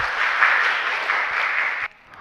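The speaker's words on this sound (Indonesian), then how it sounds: "Berikan tepuk tangan yang meriah." Audience applause at a school event at MTs Muhammadiyah Tolitoli, a steady burst of clapping from a seated crowd that holds evenly for about two seconds, then cuts off abruptly into near silence.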